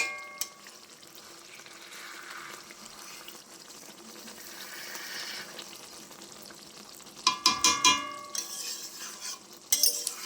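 A metal spatula scraping and stirring beneath rui fish frying in oil in a pan, heard as soft scrapes over a low sizzle, with a few sharper clinks toward the end.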